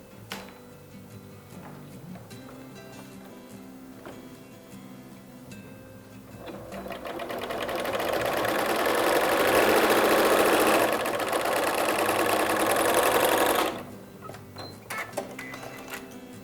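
Sewing machine stitching along a traced template mark on fabric for Easter chocolate-bar packaging: a steady mechanical whir swells in after a quieter stretch, runs loud and close for about seven seconds, then stops abruptly, leaving faint clicks.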